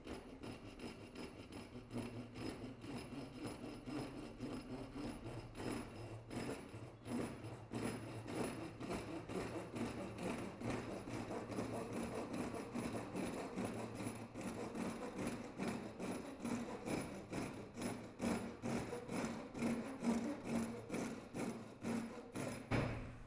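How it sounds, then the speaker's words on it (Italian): A Wolfcraft Ryoba Japanese pull saw rips along the grain of a fir board with its coarse teeth, a fast, steady rhythm of rasping strokes repeating close and clear throughout. "inizierò questa prova facendo dei tagli lungovena, quindi direttamente con la dentatura più grande su questo pezzo di abete"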